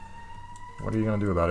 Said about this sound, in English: Apologies for the police sirens in the background.